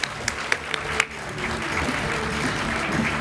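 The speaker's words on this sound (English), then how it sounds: "can I have a round of applause?" An audience at a university teaching awards ceremony applauds steadily, a few sharp early claps swelling into continuous clapping filling the room.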